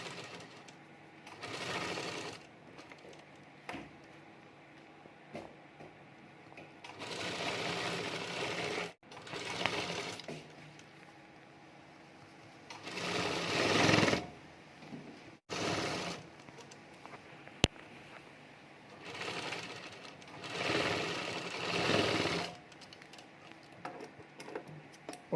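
A sewing machine stitches around a plastic-laminated mat with rubber sheeting in repeated bursts of fast, whirring runs, each a few seconds long, separated by quiet pauses and small clicks.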